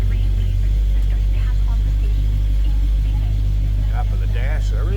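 A 1955 Chevrolet 3100 pickup engine runs at a steady, low idle close by, its deep rumble continuous throughout with no clear start, while someone talks over it.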